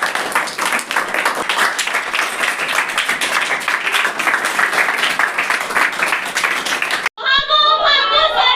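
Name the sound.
audience applauding eco club children's street play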